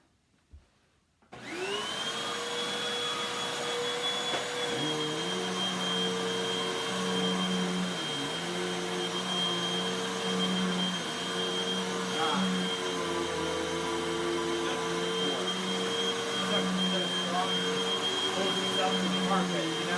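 A Hoover WindTunnel vacuum cleaner switches on after a brief click and settles into a loud, steady whine with a high motor tone that runs unbroken and close up, with slight shifts in pitch.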